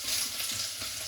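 Onions frying in a pan crackle and hiss in a bright, dense sizzle close by, with soft stirring scrapes mixed in and no talking.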